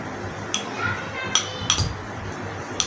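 A peeled banana mashed in a dish with a utensil, giving a few sharp clinks and soft squishing taps spread over a few seconds, close and fairly quiet, no voices.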